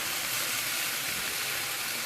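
Chicken, zucchini and onion stir fry frying in a pan, a steady, even hiss of sizzling that holds level throughout with no talk over it.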